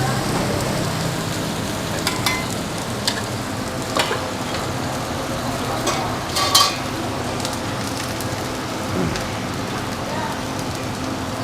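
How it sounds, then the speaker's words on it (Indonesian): Steady crackling sizzle of chicken fillet deep-frying in hot oil, dense and close, with occasional louder pops and spatters. "Dan ini adalah penggorengan terakhir dari ayam kita."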